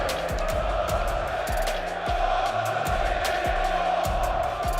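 A large live crowd at an esports tournament in Birmingham roars and cheers continuously, while a commentator talks over the din.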